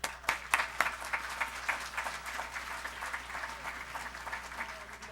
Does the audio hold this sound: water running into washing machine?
no